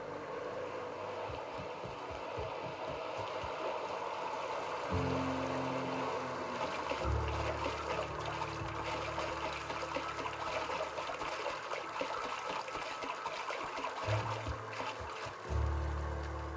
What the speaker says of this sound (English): the waterfall's a good spot to wash your clothes